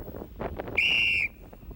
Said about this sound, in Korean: 경찰의 무기는 공범이 아니라 질서를 유지시켜주는 바로 이 호루라기예요